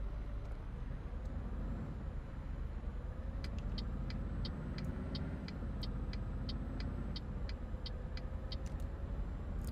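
A Scania S Series truck in Euro Truck Simulator 2 pulls away and accelerates, its engine a steady low drone rising slowly in pitch, with a series of short regular clicks partway through and no talk.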